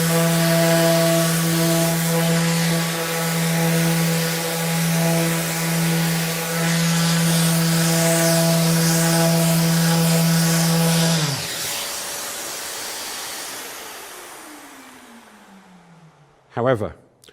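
A Festool ETS EC 150/3 eccentric sander works painted material with a loud, steady, buzzing whine that stops abruptly and winds down, followed by a brief knock.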